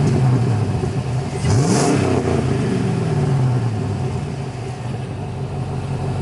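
A 2003 Chevrolet Silverado SS V8 with a muffler delete revs up sharply from idle, its pitch rising and then falling back to a steady rumbling idle, loud and near.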